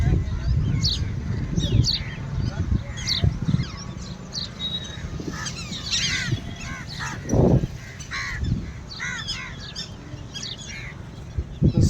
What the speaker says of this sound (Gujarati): કલરવ પક્ષીઓનો